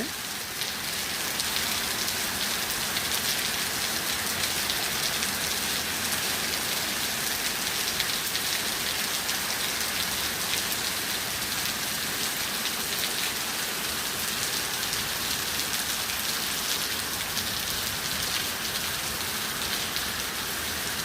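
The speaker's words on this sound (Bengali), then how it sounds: "প্রচুর বৃষ্টি" Heavy rain pours steadily at night in Karachi, a dense, even hiss of downpour on surfaces that stays loud and unbroken throughout, with no voices.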